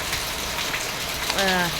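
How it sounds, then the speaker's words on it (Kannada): Heavy morning rain pours down in a steady, dense hiss that fills the whole stretch, with a brief voice rising over it near the end. "ಇವತ್ತು ಬೆಳಗ್ಗೆ ಸಿಕ್ಕಾಪಟ್ಟೆ ಮಳೆ ಬರ್ತಾ ಉಂಟು"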